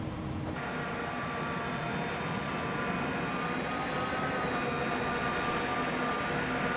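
An Airbus A300-600F engine spools up during its start sequence in the X-Plane 11 flight simulator, a steady turbine whine and broad roar holding evenly throughout.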